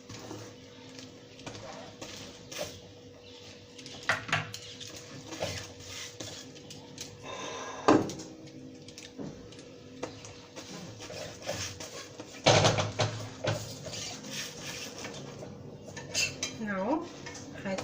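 An egg chicken roll is flipped in a pan on the stove, with repeated clanks and scrapes of a metal utensil against the pan over a low frying hiss, loudest in a few sharp knocks.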